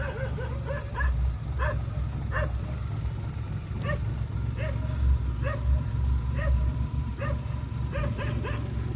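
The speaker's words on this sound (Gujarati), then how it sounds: "કૂતરા અને ભૂંદરાની વચ્ચેનું યુદ્ધ મોટી કુકાવની અંદર" Dogs fighting with other animals in a village, giving repeated sharp barks and yips that come in short bursts over a loud, constant rumble of background noise.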